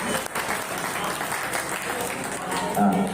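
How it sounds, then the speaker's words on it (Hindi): Audience at a temple foundation-day ceremony applauding to welcome guests, a steady, full burst of clapping from a crowd with some voices mixed in, swelling slightly at the end. "इनके स्वागत में जोरदार तालियां होनी चाहिए"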